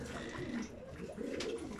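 Domestic pigeons cooing close by in a loft, with soft, throaty, rolling coos that run almost continuously with slight swells. No one speaks.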